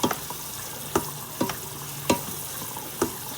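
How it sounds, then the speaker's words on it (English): Spoon stirring cooked pasta for a pasta salad, several sharp scraping knocks about every half second to second over a steady hiss, close and fairly loud with no talk. "I'll move it around, and I can use the spoon here."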